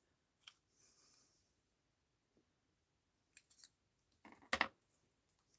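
Scissors cut paper for a mixed-media art card, producing a few scattered snips and clicks, faint at first, then a louder cluster of close, crisp cuts near the end, in a quiet room.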